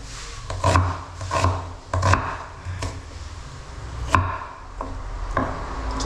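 An onion being chopped on a wooden board: a run of close, crisp knife knocks in an uneven rhythm, some strokes with a scraping rub, and no voices.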